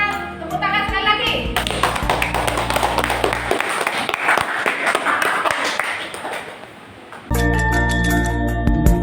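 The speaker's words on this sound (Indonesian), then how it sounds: "kita tepuk tangan sekali lagi" Students in an Indonesian classroom clap together, a dense patter of many hands over a few seconds that is interrupted by bursts of music, with a voice faintly mixed in.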